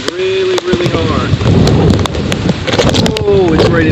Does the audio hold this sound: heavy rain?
yes